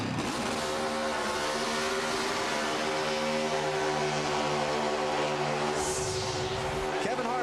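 Kevin Harvick's number 29 Chevrolet Monte Carlo race car doing a burnout after winning the 2003 Brickyard 400 at Indianapolis, a sustained roaring engine drone held at high revs for several seconds, heard from a distance under crowd and broadcast noise.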